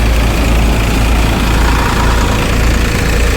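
An N.J.T. thresher runs at a village farm, a loud, steady, low mechanical drone like an idling engine, unbroken and close throughout.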